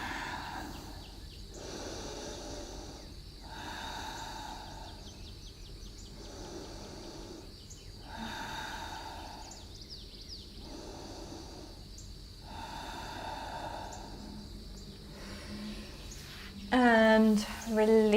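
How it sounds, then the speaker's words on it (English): Slow deep breaths taken together during a yoga forward fold, four or five long rhythmic inhale-exhale swells, soft and close, with faint birdsong in the background and a brief voice near the end. "let's all take 3 deep breaths"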